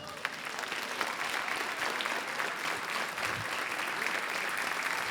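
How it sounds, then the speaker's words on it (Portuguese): A church congregation applauds during a Portuguese-language evening worship service, sustained even clapping spread across the room at moderate loudness, with faint voices mixed in. "Você pode aplaudir a Jesus?"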